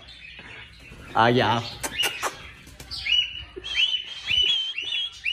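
Pet parrot chirping and whistling indoors in bright, rising bursts between short spoken words, the calls close and fairly loud against a quiet room.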